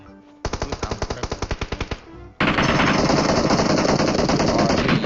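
PUBG Mobile gunfire, a loud close burst of about a dozen evenly spaced shots, then after a brief gap a dense, continuous automatic rattle.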